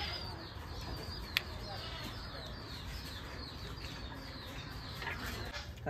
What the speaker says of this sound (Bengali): এটা কি কবুতর? এটা গিরিবাজ।